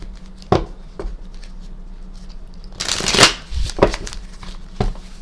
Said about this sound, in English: Let's kind of give this another good shuffle here.